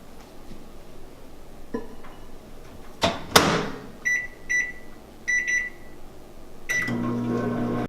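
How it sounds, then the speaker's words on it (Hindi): A microwave oven runs with a low hum, a few clunks and door sounds, and several short electronic beeps, then the hum continues. "चलिए जब तक ये 1 मिनट के लिए हमने माइक्रोवेव में रखा है"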